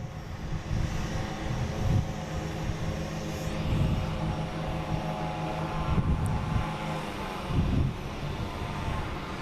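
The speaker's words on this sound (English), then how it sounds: "We got PAL Airlines landing on 4 left and Delta landing on 4." Airliners landing on runways 4 and 4 Left at an airport, one a PAL Airlines jet and one a Delta jet, give a steady distant engine roar with wind noise that swells and fades over the whole stretch.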